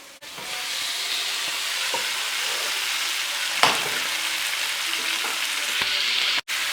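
Shrimp frying in a pan, a strong, steady sizzle that holds throughout, punctuated by a few sharp utensil taps and one brief louder clack.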